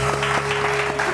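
Studio audience clapping on a Pakistani morning talk show, a steady burst of applause filling the room with even, dense patter and a faint tonal hum underneath.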